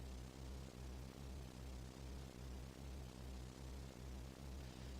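A helicopter in the Final Fantasy VII video game gives a steady, close rotor drone with regular pulsing beats, heard alone without speech.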